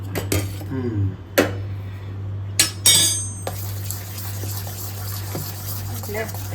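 Dahi vada batter beaten with a spoon in a bowl after two spoonfuls of oil are added, with a few loud clinks of metal on the bowl and softer stirring over a steady background hum.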